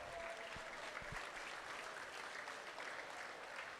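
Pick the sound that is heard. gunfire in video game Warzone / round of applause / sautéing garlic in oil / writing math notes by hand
round of applause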